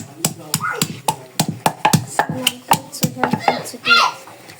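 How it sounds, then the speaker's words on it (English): Pepper is pounded in a mortar for meat in an African okra soup, a steady rhythm of about sixteen hard, close thuds and knocks, with faint kitchen noise between strikes. "So this is me pounding pepper that I'm going to add to the meat"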